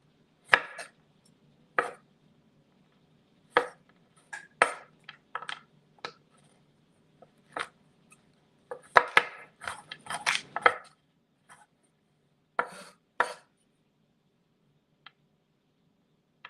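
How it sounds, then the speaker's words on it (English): Sharp knife chops through candy on a cutting board, irregular single strikes with a quick flurry of cuts in the middle, close and crisp against quiet. "I'm just kind of cutting down the middle and then coming back and cutting"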